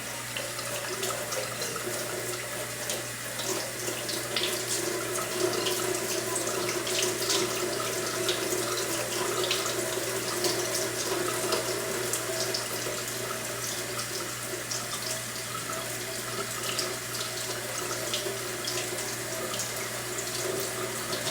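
Steady running water from a tap, a continuous broadband rush with no talking, holding level throughout.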